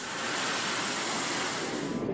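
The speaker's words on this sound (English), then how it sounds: "they watched in horror as the enormous tidal wave swept through, uprooting trees and houses" Enormous tsunami tidal wave sweeping through a coastal town in Japan, uprooting trees and houses: a steady, loud, dense roar of rushing water and surf-like wash, continuous throughout with no voices.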